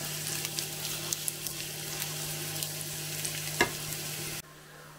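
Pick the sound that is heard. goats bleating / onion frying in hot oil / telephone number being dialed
onion frying in hot oil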